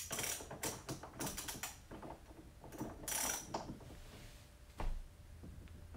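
Pittsburgh Professional ratchet wrench clicking in quick bursts of sharp pawl ticks during a torque test, with pauses between pulls and a louder knock near the end.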